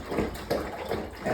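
Water sloshing and churning in the bottom tank of an Aquafire water vapor unit, a steady wet rush with rhythmic surges that rise and fall about every half second, close and continuous, no voices.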